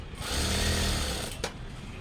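A sewing machine runs in a short continuous burst while stitching the sleeve of a chudithar top, with a brief click near the end and no one speaking.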